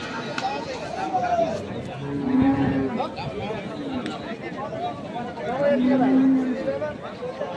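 Cattle, including dairy cows with calves, low in long, drawn-out moos, one near and loud, amid crowd chatter and people talking in a busy outdoor livestock market in Ambari, Thakurgaon, Bangladesh.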